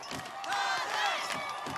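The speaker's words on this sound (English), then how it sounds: "Big cheer from the crowd." A crowd cheers at an Australian Ninja Warrior course, a sustained roar of voices with whoops swelling and fading, heard close and loud.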